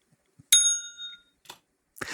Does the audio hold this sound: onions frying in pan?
no